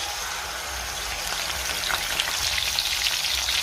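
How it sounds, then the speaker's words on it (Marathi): Crushed garlic and ground masala paste fry in two spoons of hot oil with a steady, close sizzling hiss and light spattering crackles. "तेलामध्ये मी टेचलेला लसूण घालते, त्यातच हे वाटण घालायचंय आपल्याला"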